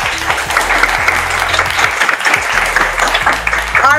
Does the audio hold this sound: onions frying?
no